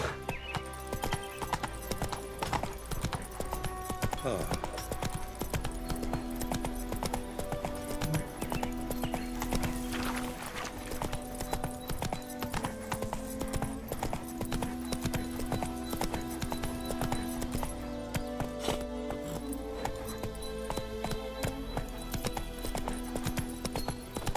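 A horse gallops in the video game The Witcher 3, with continuous rapid hoofbeats throughout, a faint whinny, and game music and ambience running underneath.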